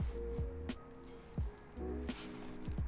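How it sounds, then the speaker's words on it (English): Water is poured and splashed over a Marshall Middleton speaker, giving close, wet squishing and dripping sounds with a few hollow knocks and splashes spread irregularly over a few seconds. "I'm gonna put some water on it."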